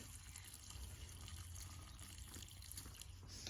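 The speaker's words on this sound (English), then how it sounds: "So here now my brother is dumping his bottle" Lukewarm water poured from a bottle onto a coconut coir block, a soft, steady trickle and splash heard close but quietly, with no talk over it.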